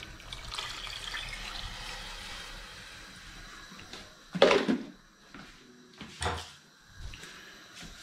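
Water is poured from a container into a pot of Georgian kharcho soup, two short splashing bursts after a quiet stretch of low background noise.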